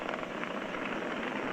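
Roaring broadband rumble of SpaceX Falcon 9 rocket engines throttled down during an astronaut launch ascent, a steady loud continuous roar with no voices.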